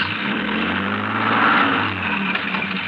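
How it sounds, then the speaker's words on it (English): A car engine revs steadily in reverse as a radio drama sound effect, a loud sustained drone that swells briefly in the middle, with no voices. "He shoved the car into reverse."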